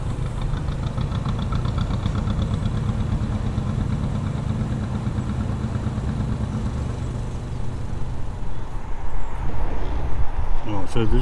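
A canal fuel boat's engine chugs steadily and loudly throughout, a low rumbling drone that grows slightly louder near the end as it passes.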